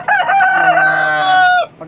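A rooster crows once, loud and close, a single drawn-out call on a free-range chicken farm.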